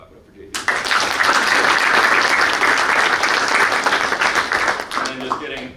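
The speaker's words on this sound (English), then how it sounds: "So clap it up for JV." At a boys' varsity basketball banquet in Baldwinsville, a crowd of guests breaks into loud, sustained applause half a second in, holding strong for about four seconds before thinning out.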